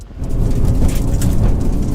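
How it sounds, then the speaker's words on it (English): Steady heavy rain hisses and patters loudly nearby, with a low rumbling undertone and no voices. "here comes the rain"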